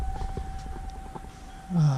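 Emergency warning sirens for tornado or nuclear accident alerts run in a quarterly test, a steady distant tone under faint background noise, with a louder low rumble rising near the end.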